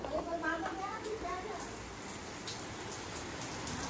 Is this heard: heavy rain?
yes